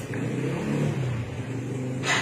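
A motorcycle engine just started and idling with an odd, strange noise, a steady low mechanical running sound heard close, with a brief brighter burst at the very end.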